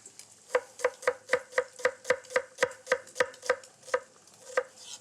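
A knife chops through an onion on a cutting board in a fast, even run of about fifteen crisp, close knocks, with no talking.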